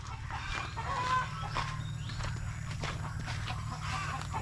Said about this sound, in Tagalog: Nakikita na yung manok ko dito mga kasinag oh.